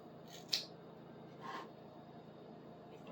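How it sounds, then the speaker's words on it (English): Scissors make two quiet snips while trimming a rustic net bag for a bottle, one sharp and one softer, spaced about a second apart in a hushed room. "you don't have to be perfect when you're trimming"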